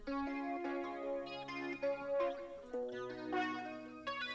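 A layered, shimmering guitar part imitating a harp guitar, with bright ringing harmonics and a low sustained note underneath, played softly with no talking.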